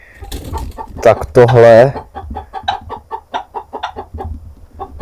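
Chickens cluck close by in a rapid, uneven series of sharp calls, with one louder drawn-out squawk early on, while someone speaks briefly at the start.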